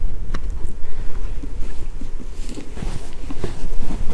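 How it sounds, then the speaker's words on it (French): Strong gusts of wind buffet the microphone outdoors, making a loud, low rumbling roar that surges and eases in uneven waves, with no speech. "Mais quel vent, c'est incroyable."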